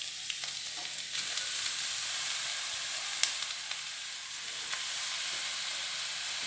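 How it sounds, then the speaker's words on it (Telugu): Onions and beetroot fry in a pan for beetroot cutlets, giving a steady, even sizzle and hiss with a few faint clicks and stirring taps. "ఈ ఎర్రగడ్డలు సగం వేగిపోయిన తర్వాత బీట్రూట్ వేసుకుంటున్నాను"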